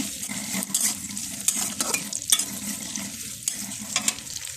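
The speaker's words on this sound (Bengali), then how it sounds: "পেঁয়াজটাকে আমি লাল লাল করে ভেজে নেব" Onions fry in oil in a kadai, cooked until reddish-brown for a masoor dal and bottle gourd dish. A steady, close sizzle runs throughout, broken by repeated scraping stirs.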